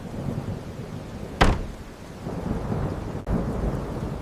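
Heavy rain pours down steadily over a village, with a sharp crack of thunder near the middle and another sudden boom later, loud and close.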